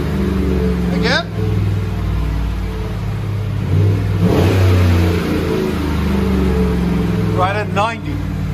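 Chevy Silverado 5.3L V8 with the resonator deleted, a steady deep engine drone with a rev swell in the middle, loud and close, while people talk over it.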